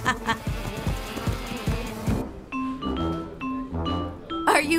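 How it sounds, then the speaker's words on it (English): A bee buzzes close by in a droning hum for the first couple of seconds, followed by brighter tonal notes. "No, it's a bee."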